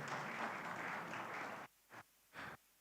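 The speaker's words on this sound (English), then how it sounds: "Round of applause for Dr." Audience at a climate media awards panel clapping for a speaker, a short burst of fairly faint applause that cuts off, followed by two brief isolated sounds.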